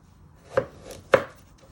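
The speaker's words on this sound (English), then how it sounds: "Once you have peeled your carrots, you want to chop them down the middle" A knife chops down through peeled carrots on a board: two sharp, distinct cuts about half a second apart, close and clear in a quiet room.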